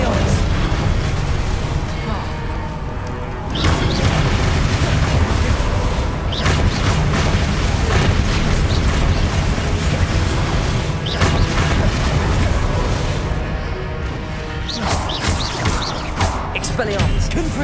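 Spell blasts and booming explosions crash one after another during Hogwarts Legacy combat, loud and near, with a voice speaking over the steady din.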